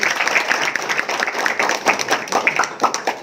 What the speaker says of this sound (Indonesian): tepuk tangan untuk Wahyu